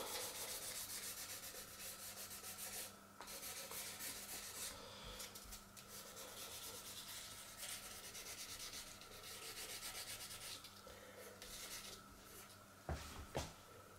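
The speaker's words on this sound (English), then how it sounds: "I've got a bit of 2000 wet and dry, just going to give a wee rub to clean it a bit." Faint, steady scrubbing of 2000-grit wet and dry sandpaper rubbed by hand over the painted body of a Gibson Les Paul Studio guitar, a soft continuous rasp with a brief knock near the end.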